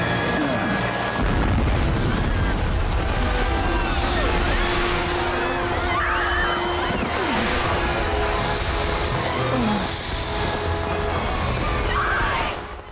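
Fireworks display detonating in a B-movie scene, a loud, dense barrage of booms, crackles and bursts running nearly continuously, with faint voices underneath.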